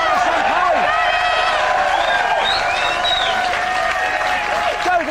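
A crowd cheers and applauds loudly and continuously for a runner named Victoria, with whistles and excited shouts blending into a dense, close roar, and voices calling out over it.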